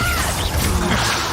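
A Bombarda spell blast in the Hogwarts Legacy video game: a dense, crackling explosive burst that fills the whole moment with a harsh smash and debris-like rumble.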